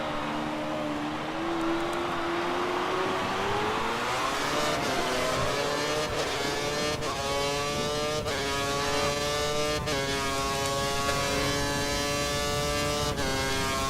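A Sauber Formula 1 car's engine screams at the Abu Dhabi race in F1 2013, its pitch climbing steadily and then jumping through quick gear shifts at full throttle, loud and continuous.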